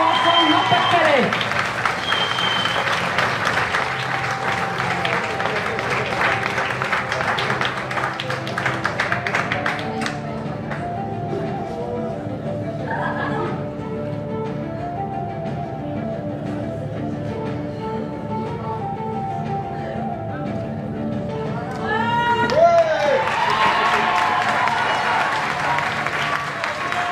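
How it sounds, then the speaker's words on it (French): Pageant audience applauding at a beauty contest election, bursts of clapping and crowd noise at the start and again near the end, with an announcer speaking over a quieter middle stretch. "je crois qu'on peut applaudir très très fort"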